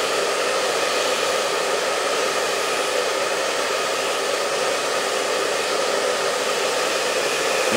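A hair dryer runs continuously while hair is blow-dried with a round brush, a loud, steady airy roar that holds without pause for the whole stretch, with no talking.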